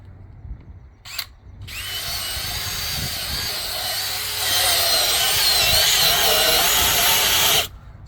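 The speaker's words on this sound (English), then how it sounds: "get your drill brush. You want to agitate all this into the fabric." A drill-mounted scrub brush churns cleaner into truck carpet fabric, a loud steady whirring grind lasting several seconds and growing a bit harsher midway before cutting off, with no talk over it.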